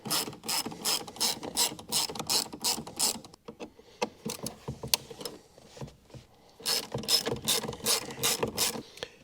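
A ratchet removing Torx bolts from the instrument cluster of a Ford Mustang SN95, close rapid clicking in bursts separated by short pauses, with no talk.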